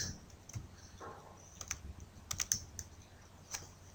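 Someone types an Excel formula on a computer keyboard. Scattered, soft key clicks come in small clusters against a quiet background.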